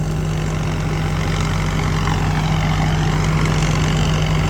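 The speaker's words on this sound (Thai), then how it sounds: "แต่รอบเครื่องยนต์นี่เบามากครับ" A 2020 combine harvester engine harvesting rice runs at a low, steady idle close by, a constant rumbling hum with no change in pace throughout.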